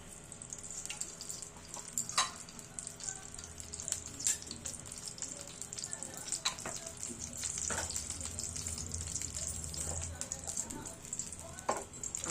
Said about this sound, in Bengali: আমাদের এখানে কড়াটা গরম হয়ে গেছে এবার আমরা অয়েল দিয়ে নেবো